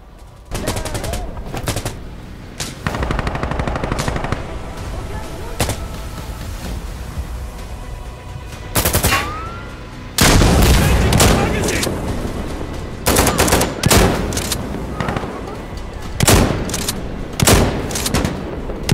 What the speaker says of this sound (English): Where's the LMG? I want to put some lead downrange.